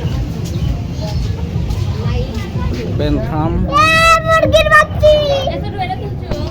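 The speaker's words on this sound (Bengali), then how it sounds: "এই তো মুরগি আরও মুরগি সব বিদেশি প্রজাতির মুরগি" Foreign-breed chickens at a zoo, including Golden Sebright, Silkie and Phoenix, cluck and squawk in short repeated calls amid people talking and children's voices nearby.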